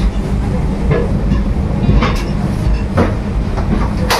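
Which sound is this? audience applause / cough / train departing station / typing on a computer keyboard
train departing station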